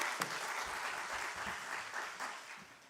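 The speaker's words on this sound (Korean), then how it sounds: "우리 먼저 발제해 주신 우리 김창기 선생님 박수 한번 보내주시죠." A seminar audience applauds presenter Kim Chang-gi at a Daeshin University Reformation commemoration symposium, a steady, fairly quiet patter of many hands clapping for about three seconds.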